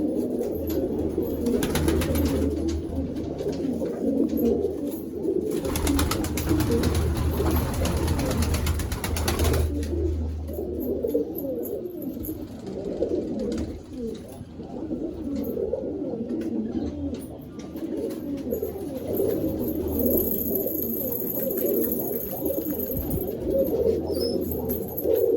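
Colored pigeons in the male section of a loft coo steadily as a dense, continuous murmur from many birds, with no talk over them.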